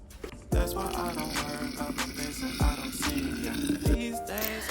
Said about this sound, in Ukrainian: Все, заливаємо окропом.